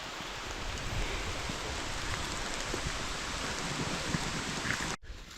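Steady, dense patter of rain falling all around in a forest, continuous and fairly loud, cutting off abruptly near the end.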